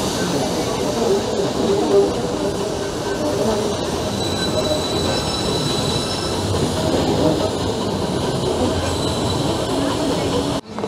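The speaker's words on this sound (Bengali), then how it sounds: "আর ট্রেনটা এখন তো ঠিকঠাকই যাচ্ছে" A moving passenger train on the line toward Mettupalayam rumbles steadily and loudly up close, with wheel squeal and faint clatter throughout and a brief drop near the end; a voice is faintly present.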